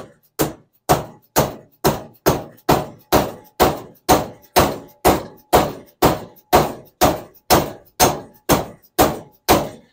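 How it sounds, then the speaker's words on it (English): A hammer strikes a part on a vintage SK ratchet in a steady, evenly spaced series of about twenty loud, close, sharp metallic thunks, with no talk in between. "We beat it down to where it's touching the plastic."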